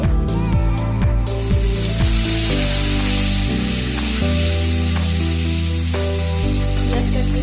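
Chopped onion frying in oil for a Bengali prawn and ol-stalk chorchori, a steady close sizzle running beneath background music.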